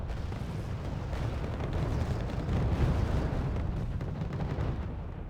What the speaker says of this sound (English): The artillery going at it